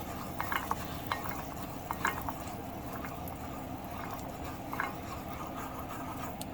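Butter heating in a pan, stirred with a wooden spoon, gives a soft continuous sizzle with light scraping taps, close and fairly quiet, with no voices.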